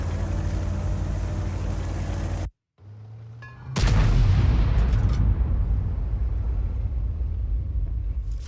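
A tank gun fires a round in the Object 261 tank video game. A steady engine drone cuts out into near silence, then one sharp, loud blast hits and rolls into a long rumbling roar.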